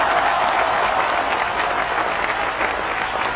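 Applause and an ovation from an audience during a live program, continuous loud clapping throughout.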